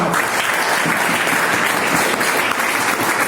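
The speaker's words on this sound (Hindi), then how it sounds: "जोरदार तालियां" Loud, sustained applause from an audience at a business development program greets the guests, a thick, even roar of many hands clapping at once without a break, close and full.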